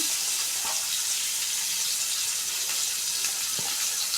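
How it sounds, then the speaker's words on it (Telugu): Tomatoes fry in a pan for a capsicum stir-fry, giving a steady, loud sizzle that stays even throughout with faint stirring clicks and no talk. "టమాటకాయ వేగనిద్దాం"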